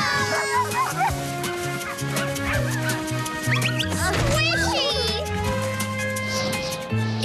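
A cartoon puppy yips and barks several times as it comes back, mixed with bright, busy children's cartoon voices and music throughout.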